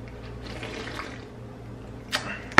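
Water pours into a blender for a vegan smoothie, a low steady trickle that ends with a brief splash and a sharp clunk.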